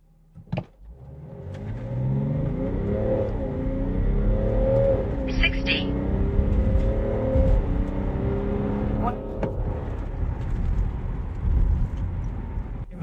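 A BMW X5 F15 40d diesel SUV with two people aboard accelerates hard from a standstill to 100 km/h, its engine note climbing through several gear changes. The run is loud and close, heard from inside the cabin.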